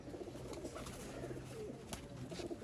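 Red-eyed breeder pigeons coo in a low, continuous murmur, with soft overlapping calls close by against steady background noise.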